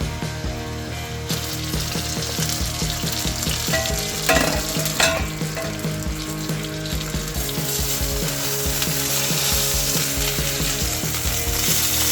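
Fish loudly frying in a pan for sarciado, a dense continuous sizzle with clattering, scraping stirs of a utensil against the pan throughout.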